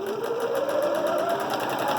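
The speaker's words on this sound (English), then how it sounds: "So I'm going to sew all the way around now." A sewing machine runs continuously while stitching around the edge of a fabric mask, a steady close-up motor whir with a rapid, even needle rhythm.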